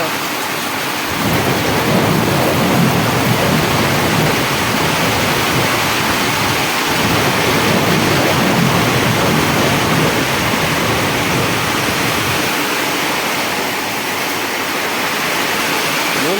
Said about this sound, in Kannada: ಗುಡ್ಲು ಸಿಡ್ಲು ಮಳಿ ಅದ್ರಾಗ ಅಡಮಳಿ